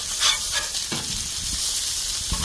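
Burgers sizzle steadily on a grill as a spatula turns them, a continuous close, loud hiss with a couple of sharp scraping knocks from the spatula.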